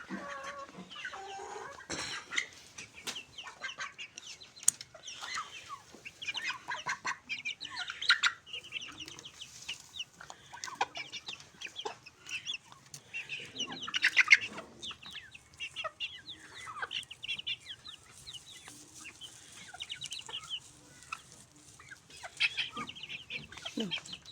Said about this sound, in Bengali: এগুলা দিয়ে দিব আমার মুরগিকে।